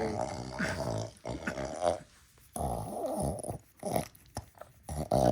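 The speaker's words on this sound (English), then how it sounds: "Noisy dog." A dog in an engine rebuild shop for a Cummins X15 truck engine makes grunting, growling vocal noises in several bursts with short pauses, close and fairly loud.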